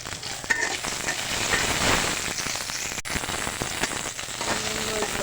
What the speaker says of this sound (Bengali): শুকনো মরিচ ভেজে নিব শুটকি ভর্তার জন্য